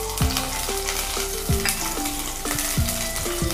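Hot oil sizzles and crackles steadily as green chillies fry, with a few metallic clinks of a utensil against the pan; no voices.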